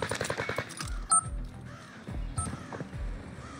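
Pistol gunfire in the Call of Duty video game: a couple of sharp, isolated shots crack out over a busy bed of game sound effects.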